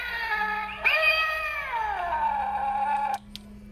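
A single drawn-out electronic meow from a toy cat Halloween decoration, bright and tonal, sliding downward in pitch over a couple of seconds against a faint steady hum.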